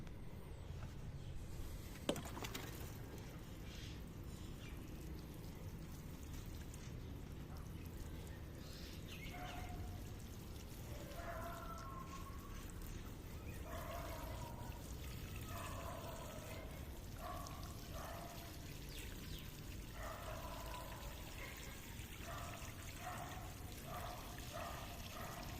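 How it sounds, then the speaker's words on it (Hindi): Water poured into a pot of freshly packed soil holding saffron bulbs, a steady soft trickle running throughout with faint bird calls in the background. "देन इसको हम पानी देंगे।"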